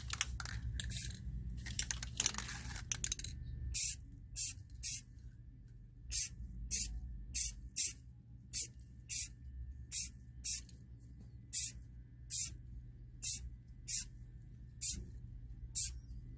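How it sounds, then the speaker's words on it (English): Rust-Oleum high heat spray paint is applied to a Yamaha YFZ ATV exhaust in a long opening burst followed by a steady series of short, sharp hissing sprays about one second apart, close to the microphone. "Always test the spray away from it first."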